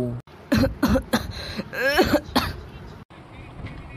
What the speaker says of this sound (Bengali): তোমার ওরকম কাশি হচ্ছে কেন?